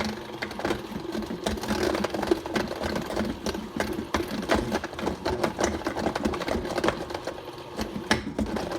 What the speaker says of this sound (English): The machine can tear them down, it's just I just don't want to be over blending